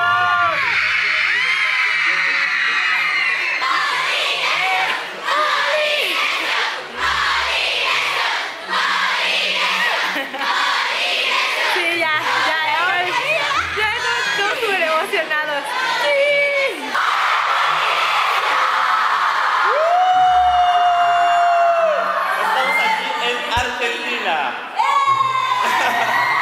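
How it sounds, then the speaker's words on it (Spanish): Fans at an outdoor show at Tecnópolis in Argentina shout and cheer in a dense, continuous roar of high-pitched voices, with individual whoops and screams rising above the crowd throughout. "aquí atrás hay muchos polinesios, nos vamos a gritarles"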